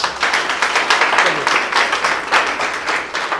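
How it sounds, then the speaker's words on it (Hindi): An audience claps for newcomers at a company meeting, a full, steady round of applause close by, swelling slightly before fading near the end. "अब इनके लिए स्पेशली ताली बजा दीजिए।"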